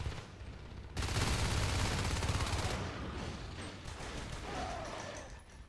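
Sustained automatic gunfire from Natural Selection 2 during a competitive match, a dense loud burst of rapid shots that thins into scattered firing and in-game effects.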